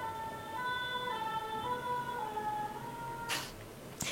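A fire brigade or police emergency vehicle sounds its siren, a steady wailing tone in the distance that fades slightly in and out, followed by a couple of brief sharp noises near the end, with no voices.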